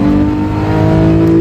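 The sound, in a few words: Porsche 911 GT3 engine revving while driving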